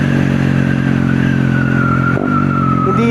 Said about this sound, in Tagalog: grabe yung alis ng motor.